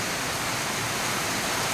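Heavy monsoon downpour in Mahabaleshwar, a steady broadband hiss of rain with no breaks, close and constant throughout, no voices.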